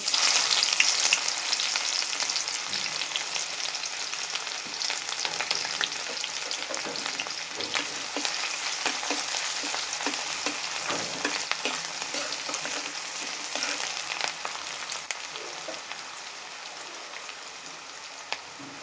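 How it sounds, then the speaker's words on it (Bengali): Chopped onions fry in oil with browned cumin seeds for a chicken curry, a loud, continuous crackling sizzle close by with scattered pops and stirring sounds throughout. "জিরাগুলো হয়ে গিয়েছে এখন আমরা পেঁয়াজ দিয়ে দেব"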